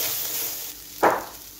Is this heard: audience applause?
no